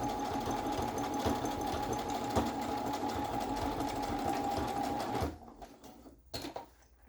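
A sewing machine runs steadily, stitching straight over the first seam of a homemade tank top, then stops after about five seconds, followed by a few faint clicks and handling sounds.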